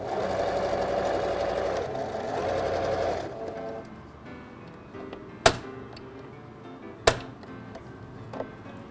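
A sewing machine stitches fabric in a TV sewing workshop, giving a steady, close whirring run for about three seconds. It then drops to a quieter hum broken by a few sharp clicks.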